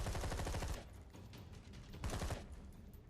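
A mounted machine gun in a zombie video game fires in two rapid bursts separated by a short gap, each a dense loud stutter of shots over a rumbling game background.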